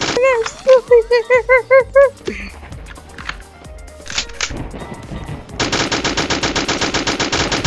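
Bursts of MG-42 machine gun fire in a Roblox game, with rapid repeated shots, a pause, then a long continuous rattling stream near and loud, with voices talking over parts of it.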